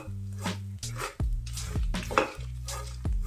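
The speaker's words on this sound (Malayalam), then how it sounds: "ഇത് കുറേ സമയമെടുക്കും ഇതിങ്ങനെ ഫ്രൈ ചെയ്ത് വറുത്തെടുക്കാനായിട്ട്." Chutney powder ingredients are fried and stirred in a pan for a Kerala-style coconut chutney powder. Steady sizzling runs under repeated scraping strokes of a utensil, with a low hum and occasional sharp knocks against the pan.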